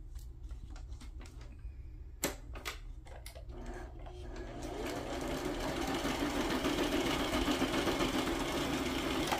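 A sewing machine runs a simple stitch along decorative side strips on paper pages: a few sharp mechanical taps, then a steady, close, buzzing motor hum that builds and holds to the end.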